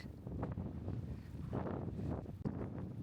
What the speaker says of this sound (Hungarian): a széltől biztos nem lehet majd megint hallani semmit a hangomból